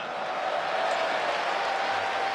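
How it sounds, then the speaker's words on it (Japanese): A baseball stadium crowd at a Saitama Seibu Lions game in 2018 roars steadily during a post-game hero interview, a dense, even wash of cheering that holds at one level throughout. "今大歓声も起こりましたが、"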